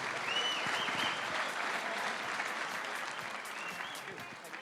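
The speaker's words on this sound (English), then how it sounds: "keep the applause going for our WDF President, Bill Hatter." Steady applause from a large crowd at the opening ceremony of the 2019 WDF World Cup darts event in Romania, dense clapping that holds throughout and slowly fades near the end.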